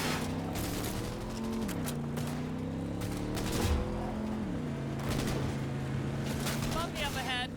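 Gunfire in the video game Cyberpunk 2077, rapid bursts of shots over a droning engine hum while a voice talks throughout.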